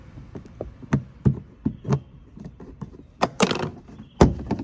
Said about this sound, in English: First, let's remove the interior panel.